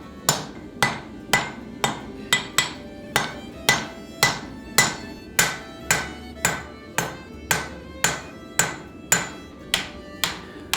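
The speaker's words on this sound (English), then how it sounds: "So once I have achieved the desired thickness, I start drawing out the beard and shape it on the anvil." Steady, evenly spaced hammer blows ring out about twice a second on a steel axe beard being drawn out on an anvil, each strike sharp and metallic with a short ringing decay, with no talking.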